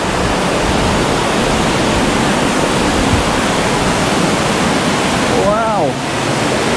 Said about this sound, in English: That is mountain runoff.